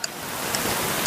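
Rain falling at a house, a continuous wash of fine patter with a few sharper droplet ticks, steady and close with no speech.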